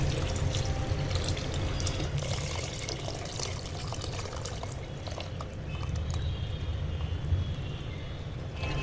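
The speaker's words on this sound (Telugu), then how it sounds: "దాన్ని వాటర్ ఇప్పుడు ఇంట్లో పోసేసుకోవాలి" Tamarind water pours steadily into a cooking pot for an okra pindi charu. The continuous splashing gush lasts several seconds, close and fairly loud, with no talk.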